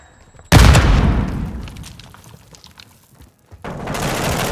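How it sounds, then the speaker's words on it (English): A Semtex grenade goes off in Call of Duty MW2, a sudden loud close blast that decays over a couple of seconds, followed by a pause and then renewed rumbling gunfire-like noise. "Calling Semtex!"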